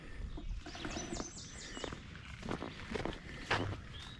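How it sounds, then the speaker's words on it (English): Birdsong fills a meadow at White Clay Creek State Park, with several birds chirping and trilling in overlapping phrases at moderate distance, along with a few soft rustling steps. No one speaks. "A lot of birds going on."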